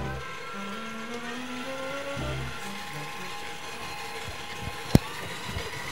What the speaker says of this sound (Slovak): teraz už len tú brinzu pomaličky zamiešam k tomu maslu